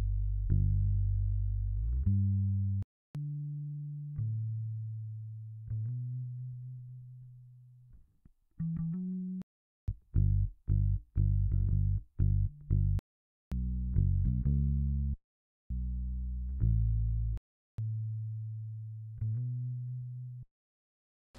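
A bass track plays back in Logic Pro X as sustained, effect-treated low notes, some long and held, others short and choppy, separated by brief silences, clean and alone.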